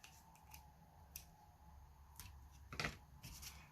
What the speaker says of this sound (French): je prends le ciseau pour couper